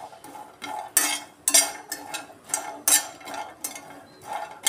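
Ingredients being lightly dry-roasted in a pan for a homemade protein powder, rhythmic scraping and rattling strokes of a spatula against the metal, close and clear with no voices.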